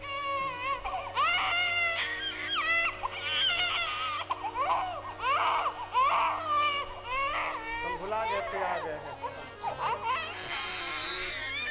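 A storyteller's voice imitates a newborn baby crying during a live Ram Katha, with wavering, sobbing wails over a steady music or drone backing.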